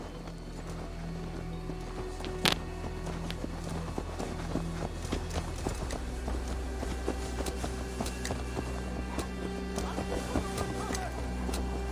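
Horse hooves clip-clopping in the Viking-era video game Assassin's Creed Valhalla, a steady close trotting rhythm over ambient game background sounds and a low hum.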